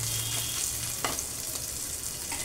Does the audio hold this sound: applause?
no